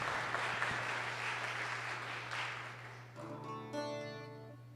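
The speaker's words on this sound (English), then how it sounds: "Let's give them another round of applause." Audience applause at a New Year's Eve concert, a dense burst of clapping that fades after about three seconds. Sustained instrumental tones take over as it dies away.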